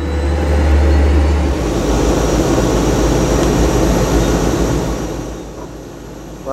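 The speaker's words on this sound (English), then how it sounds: "taxiing out of Terminal 2. We're definitely the smallest aircraft here." Cessna Caravan turboprop taxiing out from an airport terminal, heard from inside the cabin as a loud, steady engine and propeller drone with a low rumble that holds throughout and eases slightly near the end.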